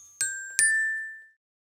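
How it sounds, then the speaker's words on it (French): The Radio Londres ding-dong jingle sounds as two bright chime strikes, the second ringing out and fading over about a second, alone in silence. "Radio Londres, la radio qui fait ding dong"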